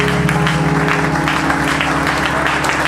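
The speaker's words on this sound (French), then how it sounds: "Let's give the Lord a big clap." A church congregation in Lome, Togo applauds together in a loud, dense, sustained clap throughout, with some musical tones underneath.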